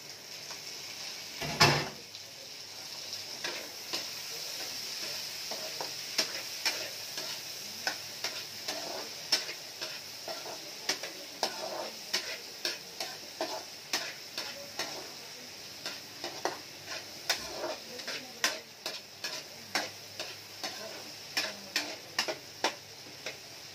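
Tomatoes go into a pan of Bicol Express, followed by a soft, steady sizzle and a run of light, regular clinks and scrapes from stirring, fairly quiet and close.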